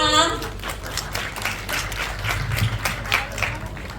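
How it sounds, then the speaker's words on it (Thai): Applause at a press conference for a Thai drama series, a crowd clapping in a steady patter that swells and fades, with some voices mixed in. "ปรบมือได้ไหมคะ"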